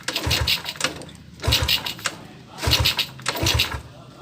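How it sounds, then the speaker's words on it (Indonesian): A Yamaha Jupiter Z motorcycle with a newly fitted cylinder block is kicked over without firing, giving four separate bursts of cranking at a steady pace, each with a low mechanical thump, close and fairly loud. "Sebelum kita hidupkan, kita engkol dulu agar minyaknya turun."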